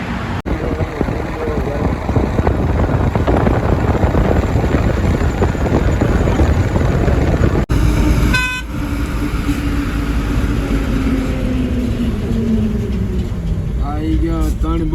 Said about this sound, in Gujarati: આમ ગાડીઓ આવે તો બહુ જોરદાર અવાજ આવે છે